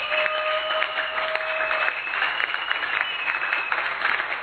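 A church congregation applauding for the Lord Jesus at a French-language sermon, a steady, lively wash of many hands clapping with crowd noise and a few sustained tones over it.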